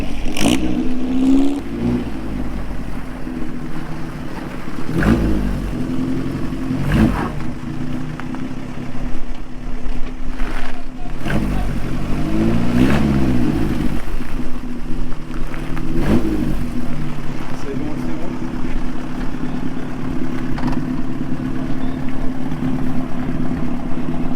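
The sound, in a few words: engine of a 1926 vintage car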